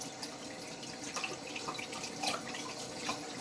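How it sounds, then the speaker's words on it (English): Water runs over a 3K Thuringian whetstone as slurry is washed off its surface, a steady close splashing and trickling stream with a few brighter splatters. "I'm going to wash off the slurry"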